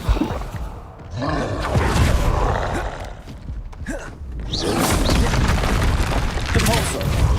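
The Incendio fire spell is cast in Hogwarts Legacy, producing booming, roaring bursts of flame and impacts that swell and fade over several seconds in a dense, loud game soundscape.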